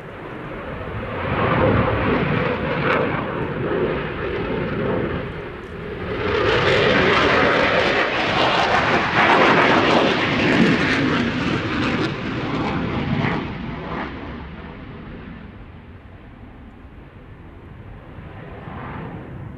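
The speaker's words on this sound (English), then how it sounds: "when the BAE Systems Typhoon was displaying ever since" A BAE Systems Typhoon jet in a flying display produces a loud, continuous roar that swells in the middle as the aircraft passes, then eases slightly toward the end, with no voices over it.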